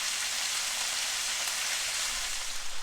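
Vegetables frying in a pan for keto spicy eggs, a steady bright hiss of sizzling oil throughout, close and even with no talking.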